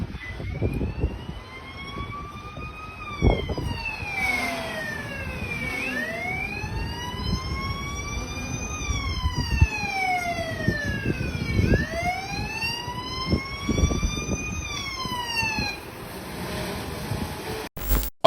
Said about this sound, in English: you heard that drone with the sirens going off